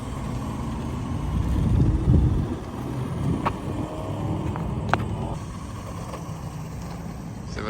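A 1985 Nikko Pontiac Firebird 1/10 RC car drives outdoors, its small motor buzzing steadily under wind rumble, with a couple of brief sharp clicks and rattles along the way.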